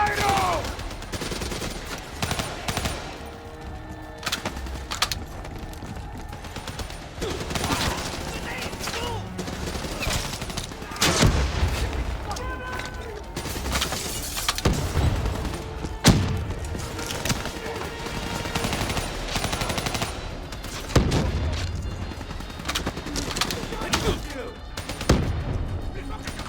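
Combat gunfire in Call of Duty: Black Ops 3 during a battle in Cairo streets, continuous automatic bursts and scattered heavy shots with explosions, dense and loud, with voices calling out amid the shooting.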